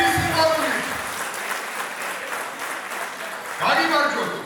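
Wedding guests applaud the newlyweds in a steady, dense patter of clapping that swells again toward the end, with talk over parts of it.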